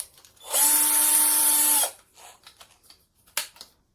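A power drill with an 18mm bit chucked in whirs in a single high-pitched spin of about a second and a half, close and fairly loud. Faint handling clicks and a sharp tap follow.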